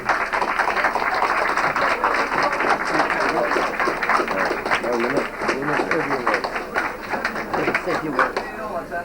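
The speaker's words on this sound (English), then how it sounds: "Could we have a round of applause, please?" An audience at a GAA awards evening applauding, a steady bed of clapping heard under someone speaking over a PA for the whole stretch.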